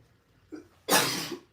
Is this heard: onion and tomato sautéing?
no